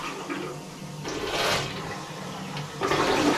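A real flush toilet in a house under renovation flushes twice nearby, each a loud rushing surge of water that then settles into a softer refill, with no talking.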